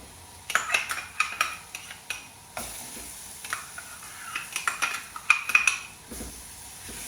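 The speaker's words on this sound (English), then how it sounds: "Give that a good stir." A spoon scrapes and clinks around a cooking pan of tomato sauce made from watered-down tomato paste and passata for chicken jalfrezi, in quick repeated strokes over a faint sizzle.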